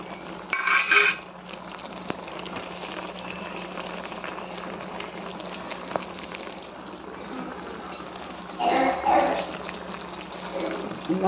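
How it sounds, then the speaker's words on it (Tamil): Crushed fennel and curry leaves tossed into mutton cooking in a pan for mutton chukka, with a continuous bubbling sizzle and bursts of metal utensil clatter near the start and end, while a voice talks over it. "இடித்து வச்சுருக்க சோம்பு, கருவேப்பிலை அதையும் இதில் போடுறேன்."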